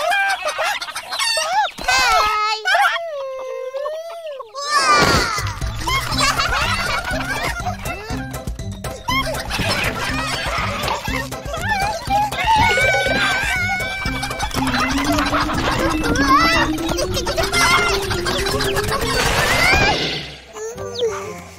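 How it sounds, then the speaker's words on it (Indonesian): Cartoon chickens crow and cluck in a lively barnyard, loud and close: a rooster's long crowing opens, then busy overlapping clucks and squawks run continuously. Voices chatter and laugh among the birds. "Pergi halau ayam-ayam tu masuk ubat."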